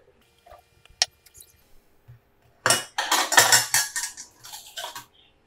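Warmed detox water is strained into a tumbler, heard as a brief clink near the start followed by a few seconds of splashing, trickling pour with small metallic clatters from the strainer.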